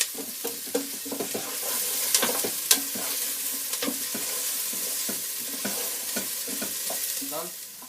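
Onions sautéing in a pan for green Thai chicken curry while a spoon stirs constantly, with repeated clicking scrapes against the pan over a steady, close sizzle.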